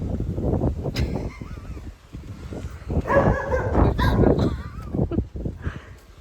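A dog barks and yips several times at varying distances, mixed with whimpering and some background noise, in irregular bursts.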